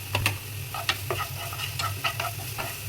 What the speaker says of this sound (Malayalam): നമ്മൾ ഉള്ളിയും പച്ചമുളകും കൂടി അരിഞ്ഞത് ഇട്ട് കൊടുക്കുക.